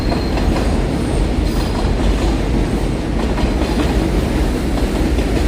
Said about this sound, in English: There's the train up there.